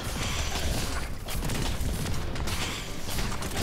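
Video game fireworks: dense, continuous crackling and popping bursts under a steady roar, like a rapid barrage of explosions, loud and unbroken throughout.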